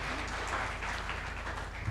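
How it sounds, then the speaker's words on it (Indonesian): A hall audience applauds for PT Pertamina Persero at a building inauguration ceremony, a steady dense wash of clapping throughout with no pauses. "Mohon tepuk tangan untuk PT Pertamina Persero."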